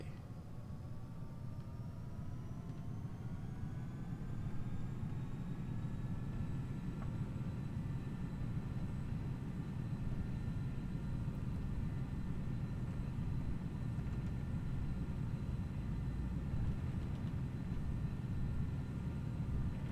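Airplane taking off on runway 12 at Edmonton International Airport in a flight simulation, a steady broad engine roar with a slowly rising whine that continues evenly for about twenty seconds.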